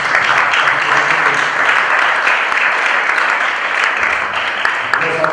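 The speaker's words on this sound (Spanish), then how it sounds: "Creo que merecen un súper aplauso" A room full of people at a conference session applauds steadily, a dense wash of clapping that holds at a constant level for several seconds.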